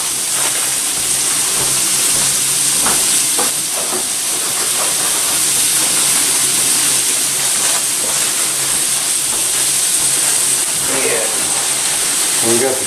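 Carrots and green, yellow and red peppers sizzle in a stir fry, a loud, steady hiss that fills the whole stretch, with light clatter and faint voices underneath.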